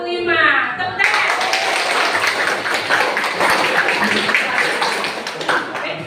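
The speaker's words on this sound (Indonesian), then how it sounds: "Tepuk tangan." A classroom of students claps hands together in a dense, sustained burst that starts abruptly after a moment of speech and carries on to the end, with some voices mixed in.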